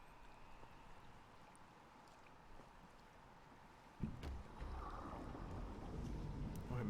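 A small boat in The Witness starts up with a sudden low thump, then a steady rumbling, sloshing drone of motion through water over a quiet windy ambience, no voices.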